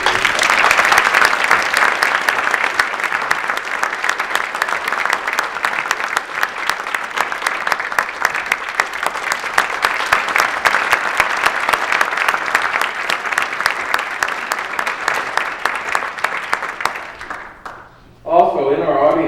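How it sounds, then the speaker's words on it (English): Enthusiastic applause for a filmmaker at an MLK Day celebration in Brookline, a large audience clapping steadily and loudly for many seconds before it dies away and a voice begins speaking. "let's give a big round of applause to Harvey Rodman"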